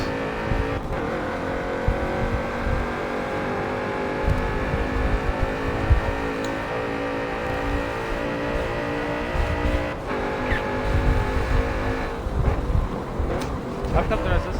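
Porsche race car engine droning steadily in a racing video game, a sustained hum with small rises in revs, with someone talking over it.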